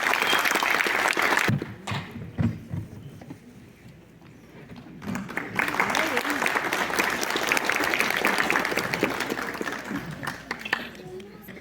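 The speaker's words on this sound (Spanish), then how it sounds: "Vamos a brindar un fuertísimo aplauso por los 50 años de la Chijalta Fisi." Audience applause at an Indigenous community ceremony honoring former leaders for the 50th anniversary of Chijallta FICI, with a dense clapping wash that dips midway then swells loudly again, mixed with crowd noise and voices talking over it.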